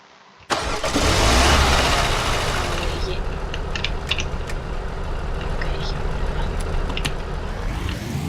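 A video game car engine kicks in abruptly and surges into a fast launch, revving loud then settling into a steady drone, with a person talking over it.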